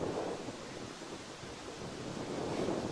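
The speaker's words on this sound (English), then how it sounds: "The wind picking up just a little bit right here." Steady wind gusting across an open outdoor cricket ground during a cold evening league match in Morrisville, a continuous broadband rush that swells slightly near the end, with no talk.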